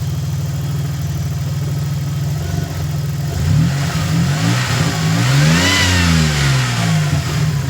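A Subaru XT6 six-cylinder engine with no muffler idles steadily, then revs up and down in rising and falling sweeps, loud and close, with no talking.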